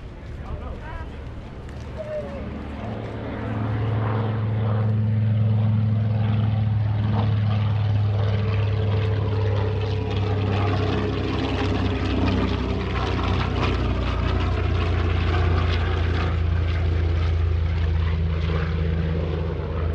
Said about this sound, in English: coming around from the right, Jim Pusateri, the TBM Avenger, and the photo pass